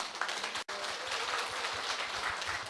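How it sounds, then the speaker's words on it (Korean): Audience applause after a lecture, a dense wash of clapping from a crowd, fairly quiet and steady, with a brief dropout near the start. "열강을 해주신 관장님께 다시 한번 큰 박수를 보내주시기 바랍니다"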